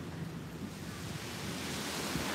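Ocean waves wash onto Dangkalan Beach in Bulusan in a steady, broadband roar, with breaking surf and some wind noise on the microphone, continuous and moderately loud.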